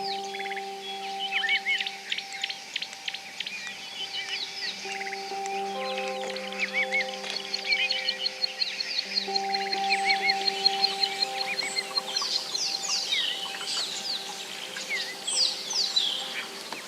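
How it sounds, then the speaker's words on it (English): Drongos calling in an extinct volcano in South Africa, a busy run of varied chirps, whistles and rapid trills over several steady tonal notes, fairly close and continuous without speech. "These drongos are not only smart with their calls"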